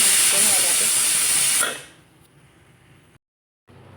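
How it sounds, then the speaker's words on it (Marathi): A loud, forceful hiss of steam bursts from a pressure cooker of rice for over a second, then cuts off abruptly, leaving a quiet background hum. "वाफ काढली"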